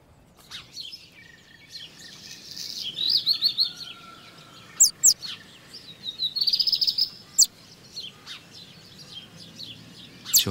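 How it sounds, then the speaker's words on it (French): A common blackbird on a terrace gives bright chirps and short trilled bursts in scattered clusters, fairly soft and mid-distance, with no voices. "Sur la terrasse, le merle noir s'affaire."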